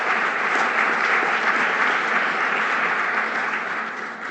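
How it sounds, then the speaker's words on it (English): Audience applauding sponsors at a club luncheon, a loud, dense, sustained round of clapping that tapers slightly at the end. "Let's give them a round of applause as well."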